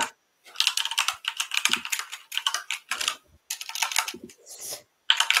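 Rapid keystrokes on a computer keyboard, typed in quick bursts with short pauses between them, close and clear with no talking.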